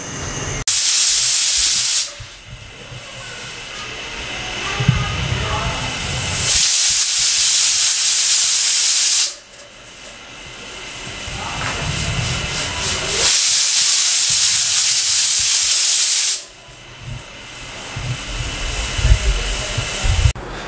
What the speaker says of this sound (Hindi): ये कुकर की जो विसल है ये आवाज़ देने लग जाएगी।